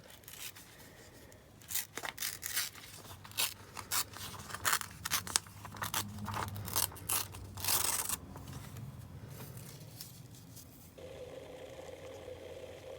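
Paper being torn by hand for a blackout poetry collage, a series of short close rips and crinkles of varying length, with quiet pauses between them and no talking.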